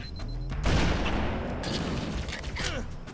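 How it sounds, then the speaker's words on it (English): Gunfire in the video game Halo comes as a loud, close burst of shots and blasts that fills the whole moment, with a voice talking over it. "It takes millions of shots to kill one damn enemy."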